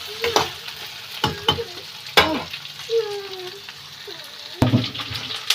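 Okra fries in hot oil for a Gujarati bhindi sabzi with a loud, close crackling sizzle, broken by sharp scrapes of a spoon stirring the pan.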